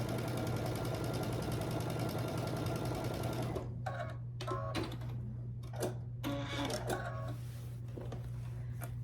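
A sewing machine runs a continuous whirring stitch along a quarter-inch quilt seam, then slows into short stop-start bursts with clicks between them.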